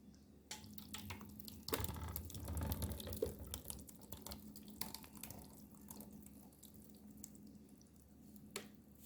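Liquid pours and splashes in a steady stream from a blender, moderately close, with a few clinks and knocks mixed in.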